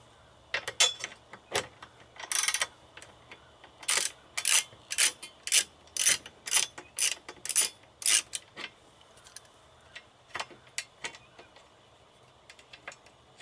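Ratchet wrench clicking in quick bursts while the last bolt on the strut brace of a Lincoln LS 3.0 V6 is loosened, with sharp close metallic ticks in irregular clusters and brief pauses.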